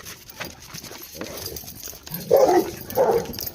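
Dogs bark at a farmer's field, two louder bursts standing out near the end over a low outdoor rumble and faint background noise.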